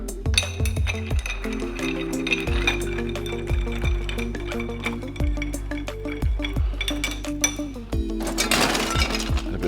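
A cocktail with black walnut bitters is stirred over ice in a glass, producing rapid, rhythmic clinks and rattles of ice against glass, close and clear, with no speech.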